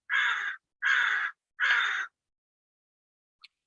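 Three loud, raspy crow caws in a steady rhythm at Monterey Bay, followed by a brief faint chirp after a pause, with no talk.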